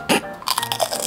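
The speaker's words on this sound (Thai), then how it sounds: "ฟังความกรุบกรอบมันนะ" A single crisp bite into crunchy strawberry ice cream followed by a quick run of crunchy chewing sounds, close and loud, with no talking.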